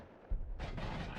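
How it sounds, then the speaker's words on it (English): Video game explosions boom one after another, a low thump followed by a louder, broad blast that carries through to the end, with no voices. "are they just getting bigger and bigger explosions?"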